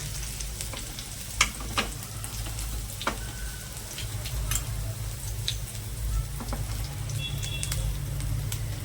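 Curry leaves, asafoetida and chopped green chillies fry in hot oil as a tempering for spiced yogurt. The close, steady sizzle crackles throughout, with a few sharper pops, and no one speaks.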